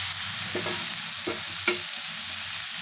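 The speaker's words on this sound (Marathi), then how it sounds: "आता हे चांगले परतून घ्यायचे" Chopped ivy gourd sautéing in a pan, with a steady loud sizzle broken by three quick scraping stirs of a spatula.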